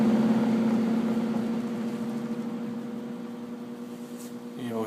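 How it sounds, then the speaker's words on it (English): An electric motor in a tunnel rig spins down, its steady whirring hum gradually sinking in pitch and loudness, with a brief clatter at the very end. "you'll hear the motor slow down"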